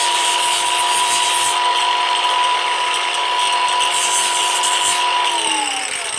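An angle grinder deburring a drilled hole in a plastic five-gallon hydroponic bucket, running as a loud, steady high-pitched whine throughout, winding down in pitch as the motor slows at the end.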